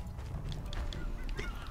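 A flock of geese honking in the game Horizon Zero Dawn, several overlapping calls over a steady low ambient rumble, moderately loud with no talk.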